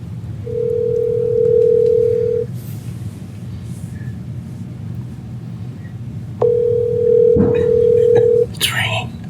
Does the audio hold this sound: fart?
no